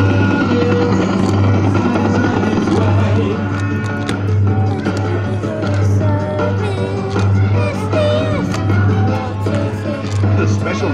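A 2000s Amutec Postman Pat helicopter kiddie ride plays its loud electronic soundtrack, a steady pulsing rotor-like hum under music and recorded cheerful voices.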